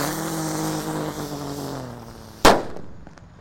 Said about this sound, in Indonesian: yang kita nyalakan di sini ada mercon Teratetor